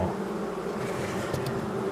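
Honey bees in a weak hive after autumn syrup feeding hum in a steady, dense drone close by, with no voices.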